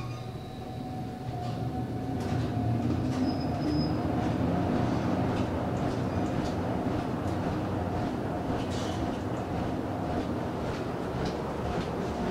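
Traction elevator car in New York riding between floors, with a steady low rumble and rattling shaft noise throughout and faint scattered clicks and squeaks.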